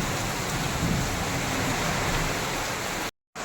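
Heavy rain pours down with wind during a thunderstorm in Pune, a dense, loud, unbroken hiss that cuts out briefly near the end.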